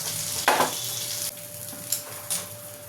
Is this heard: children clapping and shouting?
no